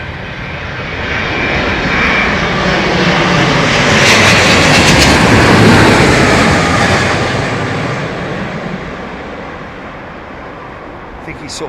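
An airliner on descent in a gusty crosswind at London Heathrow gives a broad jet roar that swells to a peak midway and then eases off, with the engine noise steady and fairly close.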